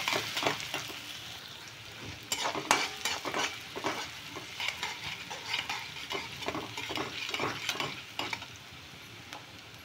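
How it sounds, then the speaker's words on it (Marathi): Onion sizzles and fries in a pan as spices go in, with close stirring scrapes and occasional clinks of a utensil against the pan. "कांदा चांगला फ्राय झाला की आपण याच्यामध्ये मसाले टाकायचे आहेत।"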